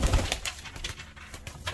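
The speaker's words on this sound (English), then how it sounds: "Beautiful pigeons." Pigeons coo softly in a loft, several short, low throaty calls repeating in quick succession at close range, with no talking.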